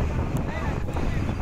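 Steady wind buffeting and rushing water surround a tourist boat ride on the sea at Kanniyakumari. The roar is loud and continuous and fills the whole stretch.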